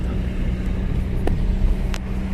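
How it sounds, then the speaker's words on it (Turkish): A manual-transmission car pulls away in second gear after the shift, its engine a steady, close, low rumble throughout with a couple of faint clicks from the cabin. "Vitesi direkt ikiye aldıktan sonra ayağımı debriyajdan çektim."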